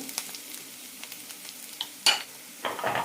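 Banana stem and onion sautéing in a pan, a soft crackling sizzle punctuated by a few sharp utensil clinks and scrapes, close by and fairly quiet.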